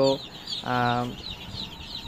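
Egyptian Fayoumi chicks on a farm peep in thin, high, continuous cheeps, broken by a louder, lower, drawn-out call at mid-clip.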